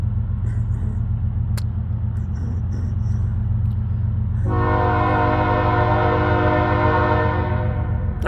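FEC 107 freight train rumbling past near St. Augustine Beach, its low rolling roar joined midway by a loud, sustained multi-tone horn blast that holds to the end.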